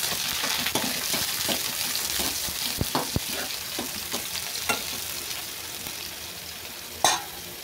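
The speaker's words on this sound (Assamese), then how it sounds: "পিঁয়াজটো অকণমান ভাজি কৰি ল'ম" Onion sizzling in hot oil in a home kitchen pan with cumin seeds and bay leaf, a steady frying hiss broken by scraping stirs, clinks of the spatula and a sharp clack near the end, heard close with no talk.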